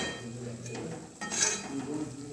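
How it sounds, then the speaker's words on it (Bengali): Mutton keema being slowly sautéed in a pan over a low flame, with soft metallic scraping and clinking of a spatula against the pan and a faint, steady sizzle underneath. "হ্যাঁ, কিমা কষা হচ্ছে, এখন হয়নি"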